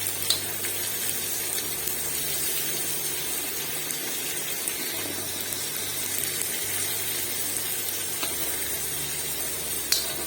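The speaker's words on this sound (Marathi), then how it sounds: "कांदा थोडंसं यात आपण असताना भाजून घ्यायचं." Onion frying in a pan while making paneer tawa pulao with Malvani masala, giving a steady, close hiss and sizzle that runs unbroken under the whole stretch with faint stirring scrapes.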